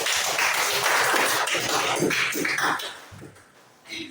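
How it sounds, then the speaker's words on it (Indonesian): A classroom group claps for a team of students after their presentation: a dense burst of applause lasting a few seconds, then fading to quiet with a faint last clatter. "tepuk tangan untuk kelompok 3"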